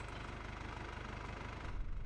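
A tractor engine idles steadily in Farming Simulator 22, a low, even rumble with a faint repeating pulse, running alone at moderate volume.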